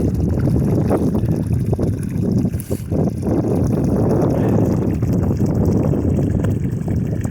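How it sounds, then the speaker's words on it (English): Strong winter wind blasts hard against the microphone, a loud, continuous roaring buffet with gusty surges and no pause, close and overwhelming, with no voices. "It's the wind. This wind is just brutal."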